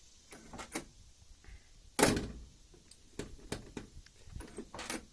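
The door of a 1964 Buick shuts with one solid thunk at close range, surrounded by quieter clicks and small handling knocks.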